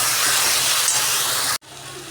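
Loud, steady sizzling hiss of ginger-garlic paste sautéing in a hot pan for a mutton curry, continuous and close, briefly cutting out near the end before resuming slightly quieter.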